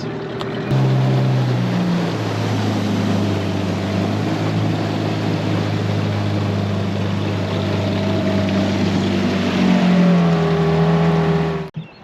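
A small outboard motor on a tinny (small aluminium boat) drones steadily and loudly for the whole stretch, a low even hum with water noise, cutting off abruptly at the end.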